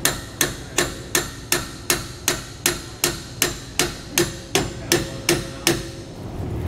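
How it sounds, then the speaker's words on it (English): A hammer gives light, evenly spaced taps, about fourteen in a row, as it drives a MORryde rubber equalizer into a tandem axle trailer suspension; close, crisp metallic knocks with no talk. "with just light taps of the hammer, it's going right in there"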